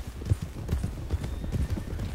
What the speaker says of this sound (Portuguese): Tô ouvindo muita correria de cavalo pra tudo que é lado.